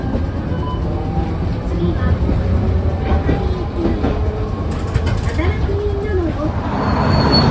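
A tram in Nagasaki, Japan rolls along with a steady low rumble and rattling clatter, muffled voices faintly audible inside the carriage.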